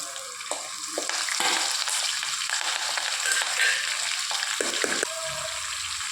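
Green chilies, curry leaves, cumin, black pepper and cashews crackle and sizzle steadily in hot ghee, with a spoon scraping and stirring the pan now and then, close up and continuous.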